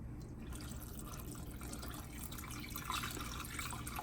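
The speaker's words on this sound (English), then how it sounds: "Now we're going to add 2 cups of water." Faint, continuous trickle and splash of water poured into a medium-sized mixing bowl of slime mix, running quietly and steadily with no voices over it.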